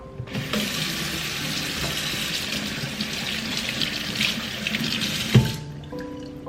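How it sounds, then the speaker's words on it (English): Hands are washed under a running kitchen tap, a steady close hiss of flowing water lasting several seconds before the faucet shuts off with a brief clunk. "I'm gonna go wash my hands now"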